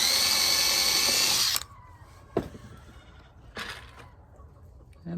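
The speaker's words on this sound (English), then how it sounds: "So now we'll do our pre-drill." A power drill bores a pilot hole into wood for a cheap DIY planter box, a loud high whirring burst of about a second and a half, followed by quieter handling knocks and a brief restart at the end.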